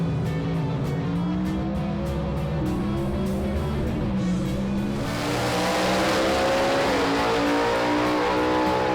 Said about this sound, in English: He finds himself there once again in the semifinals, taking on Jerry Birch in the Freebird